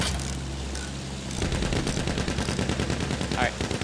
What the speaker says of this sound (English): Just keep on plugging shots at the Zeppelin.